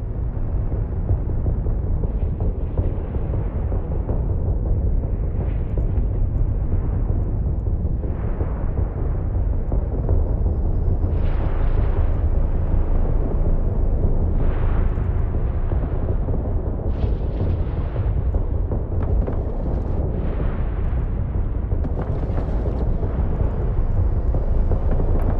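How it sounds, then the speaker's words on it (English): Ship guns firing with explosions in the space game Eve Online, a continuous loud rumbling barrage with repeated bursts and booms layered over deep engine-like drone. "Fire at will, Captain. Make sure to use both of your guns."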